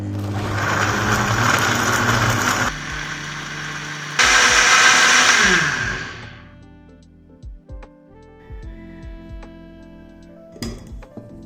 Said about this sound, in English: Blend it for about a minute.